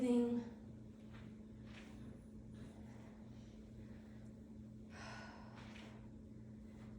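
Breaths during a low-impact cardio workout come as soft, repeated inhale and exhale rushes, roughly every second or two, over a constant low mechanical hum.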